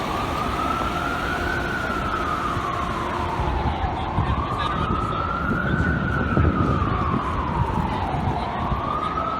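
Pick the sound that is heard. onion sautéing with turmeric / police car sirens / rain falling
police car sirens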